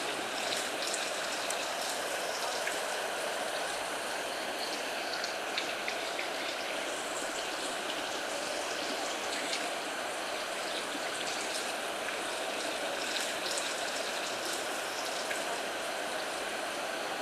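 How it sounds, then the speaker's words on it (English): Stream water rushes steadily near a waterfall in the Blue Mountains, a continuous broadband flow heard fairly close and alone throughout, with no talking. "You can hear the water."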